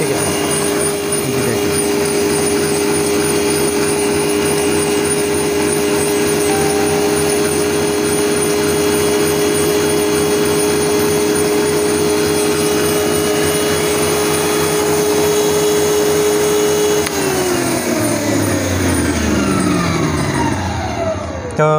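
A Panasonic electric meat grinder motor runs loudly and steadily with a constant whining hum that dips in pitch and winds down near the end.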